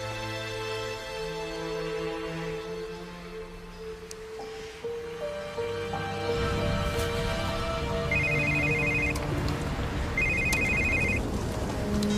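A landline telephone rings repeatedly in a quiet room, its electronic trill coming in regular bursts, over soft background music.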